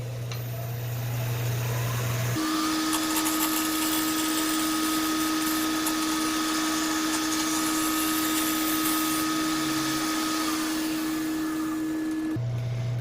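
A wood lathe spinning a wooden sphere while a skew chisel with a rolled burr works as a scraper, producing a loud, steady motor whine with a scraping hiss over it, starting and stopping abruptly.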